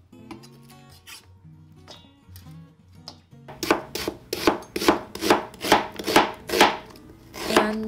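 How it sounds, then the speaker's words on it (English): Onions chopped with a knife on a cutting board while preparing Japanese tonkatsu curry: a steady run of crisp, evenly spaced chops, close and fairly loud, starting midway after a quieter stretch. "it is much easier for me to chop the onions now than ever"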